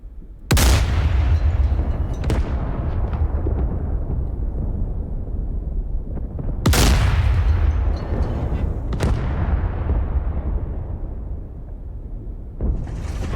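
Booming tank cannon fire and impacts in a war video game set in a 1991 Gulf War scenario with Abrams and T-72 tanks, three heavy blasts each rolling into a long decaying rumble, plus sharper cracks between them.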